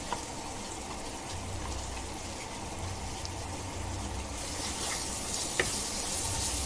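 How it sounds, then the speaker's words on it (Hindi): Kashmiri red chilli masala frying in a pan gives a steady, soft sizzle throughout, with a faint clink of utensils partway through. "ये देखो, इसको भून रहे हैं।"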